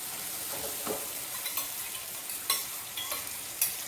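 A spice paste is stirred into ghee in a pan for dahi arbi, with a soft steady sizzle broken by several sharp scraping strokes of the spoon at irregular intervals and no talk.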